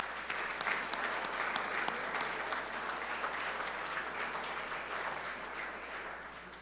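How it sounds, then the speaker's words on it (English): A steady round of applause from an event crowd honoring culinary staff and students at a college evening gathering, dense clapping that holds evenly and eases slightly toward the end, with a low hum underneath. "Let's give them a round of applause."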